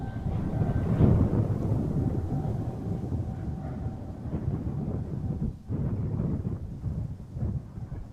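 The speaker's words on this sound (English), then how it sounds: "Battling the winds, really strong gusts, really hard to keep up." Strong wind gusts pounding an outdoor microphone at Amsterdam Schiphol Airport, a dense low rumbling buffet that surges and briefly drops out before returning, continuous and loud, with no talking.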